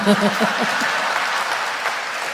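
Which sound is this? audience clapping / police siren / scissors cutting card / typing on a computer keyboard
audience clapping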